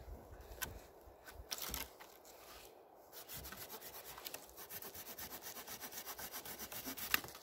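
A Silky Pocketboy folding saw cuts through green willow outdoors with steady, close rasping strokes that grow more regular and rhythmic partway through, with no talk over them.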